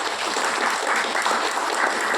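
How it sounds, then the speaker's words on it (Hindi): An audience at a direct selling industry event breaks into a brief, dense round of clapping, close and energetic throughout, with no talking over it. "तो एक बार चाहूंगी आप सभी लोग अपने लिए एक बार जोरदार तालियां"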